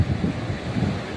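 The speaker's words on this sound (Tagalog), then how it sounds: "Biglang alon. O yan, lakas ng agos." Sudden waves and a strong water current in a deep stretch of sea, heard as a steady rushing, windy wash with low surges and no talking.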